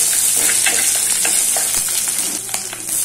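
Garlic cloves with dried red and green chillies sautéing in a pan for cabbage poriyal, a steady close hiss of frying with scattered crackles and light stirring scrapes, no voices.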